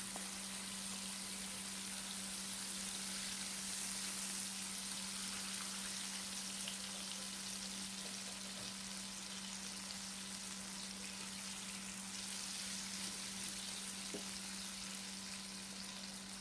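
Sugar and butter cooking into a caramel in a pan, a steady close sizzle and frying crackle with faint stirring, continuous and even throughout with no talk.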